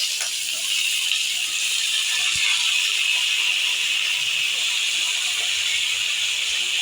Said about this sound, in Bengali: এবার এই কাঁচা লঙ্কাটা দিয়ে দেবো, কাঁচামরিচ দিয়ে দেবো, ভালো করে একটু ভেজে নেবো